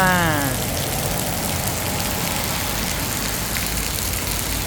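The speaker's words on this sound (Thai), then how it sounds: "เสียงฝนโปรยปลาย" Heavy rain pours steadily during a storm in Kanchanaburi, Thailand, a dense, even hiss that stays constant and fairly loud throughout, with a faint tonal sound fading out at the start.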